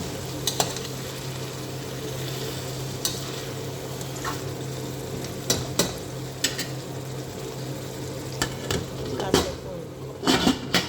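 Marinated mutton with tomatoes sizzles steadily in a pan, the meat coated in salt, chili, turmeric, pepper, masala and ginger-garlic paste, with scattered scraping and clinking stirring strokes over a low constant hum.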